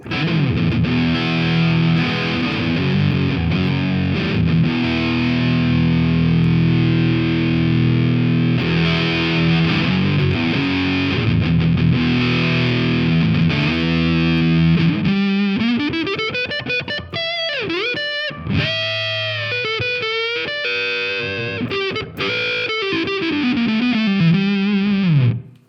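Heavy, saturated electric guitar with a thick fuzz tone and midrange boosted around 3 kHz, played continuously; the latter half shifts to sliding, wailing lead notes.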